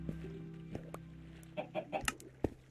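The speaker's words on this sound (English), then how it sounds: "Alright, we got a baby chicken now." Clucking of chickens in the Minecraft video game: a few short, clear clucks in a quick run near the end, over a low steady game background hum, with no talk.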